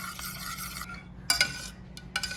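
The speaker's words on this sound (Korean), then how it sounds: "차가운 버터 넣어주시고 저어주시면 이게 소스가 부드러워집니다" Cold butter stirred into a pan sauce off the heat, a soft continuous scraping and swirl in the pan with a few brief clinks of utensil against metal, close and quiet, no talking.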